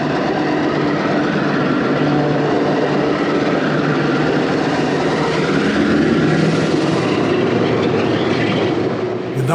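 An anthracite coal train rumbles past close by, steady and loud throughout, with rolling wheel noise and a broad roar that swells slightly midway.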